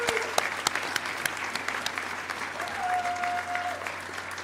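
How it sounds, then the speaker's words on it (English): Steady applause from a large crowd at a graduation ceremony fills the space, continuous and fairly distant, with no voices standing out. "Let's give them one more round of applause for getting you to today."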